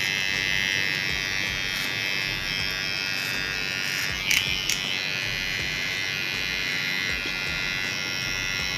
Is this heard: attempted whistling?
no